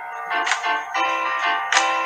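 A mobile phone rings near a tango composer with a repeating electronic melodic tone, loud and close, about three pulses in two seconds.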